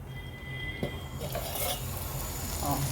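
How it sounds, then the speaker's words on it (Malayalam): Curry bubbling in a pot while being stirred gives a soft, close simmering hiss with light scraping and clinks of a spoon against the metal, without voices. "ഇനി നല്ലോണം തിളയ്ക്കട്ടെ കേട്ടോ."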